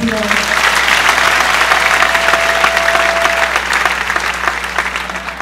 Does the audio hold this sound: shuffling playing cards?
no